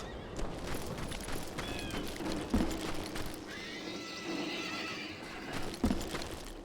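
Horse neighing with clip-clop hoofbeats in the Western shooter Call of Juarez Gunslinger, several whinnies at the 2.5 and 6 second marks over steady galloping and game ambience, no talk.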